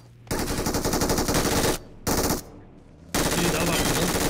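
An MG3 machine gun in a video game fires in long, loud, sustained bursts, three runs of rapid shots broken by short pauses.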